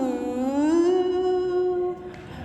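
A sustained tone glides smoothly up and down through a curving pitch contour, like piano notes tracing a sine or cosine wave, steady and moderately quiet, then fading near the end.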